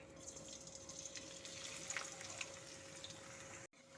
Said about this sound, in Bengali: তার জন্য আমি সাদা তেল বসিয়ে দিয়েছি, তেলটা গরম হয়ে গেছে। এখন আমি পেঁয়াজ কুচিগুলো দিয়ে দেব।